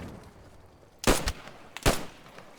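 Two sharp, loud gunshots crack out about a second apart in the tactical shooter Post Scriptum, each with a short echoing tail over quiet background.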